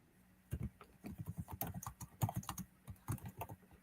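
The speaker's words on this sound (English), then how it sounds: "I'm gonna type it in the chat." Fingers typing a chat message on a computer keyboard, a close run of quick, uneven key clicks with short pauses between bursts, no talking.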